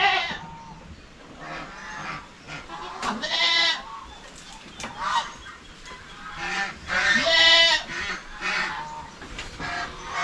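Several goats on a farm bleat in overlapping, wavering calls, loud and close, repeated throughout with no pauses.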